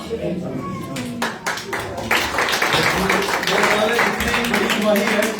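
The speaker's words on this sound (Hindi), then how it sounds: "जोरदार तालियां है।" An audience at a 2022 New Year meeting claps vigorously. The dense, crackling applause swells and holds steady, with a voice talking over it.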